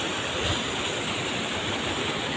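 Clear stream water tumbling down from a hillside at the Los Otates bathing resort in Chiapas, a steady, dense rushing wash with no breaks, close and fairly loud, with no voices.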